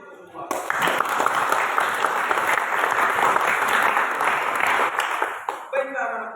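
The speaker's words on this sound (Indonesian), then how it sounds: "Oke, tepuk tangan dulu untuk semua." A class of students applauds together in a school lesson, a loud sustained burst of many hands clapping for several seconds that ends abruptly, followed briefly by a voice speaking.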